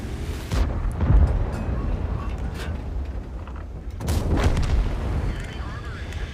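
The main gun of an M48 Patton tank fires in the World of Tanks video game, two heavy booming shots a few seconds apart over a constant engine rumble, with no talk between them.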